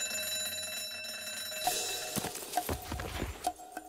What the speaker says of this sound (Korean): 자명종은 매 시간마다 종이 저절로 울린다